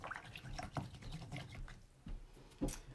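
A paintbrush swished and rinsed in a water pot during watercolour painting, with soft irregular drips and sloshes, close and quiet, with brief pauses between strokes.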